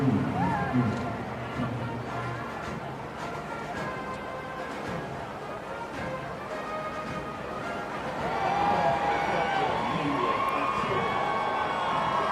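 A rain-soaked crowd of visitors gathered for King Charles III's coronation, a broad murmur with scattered distant cheers and shouts that swell in the last few seconds, while a commentator talks over it.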